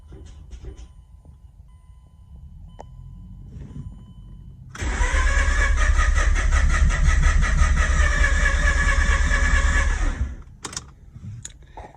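A Mazda RX-8 R3 rotary engine with a suspected failed motor cranks steadily for about five seconds without catching, a loud, even whirring drone that stops abruptly. Quieter background sounds come before and after.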